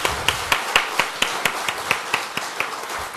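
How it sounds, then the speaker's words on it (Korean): Steady, evenly spaced hand claps from a congregation during a Sunday church service, about four sharp claps per second, fairly close and with no talking over them. "하나님께 영광의 박수 돌리겠습니다."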